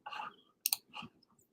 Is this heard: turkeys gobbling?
no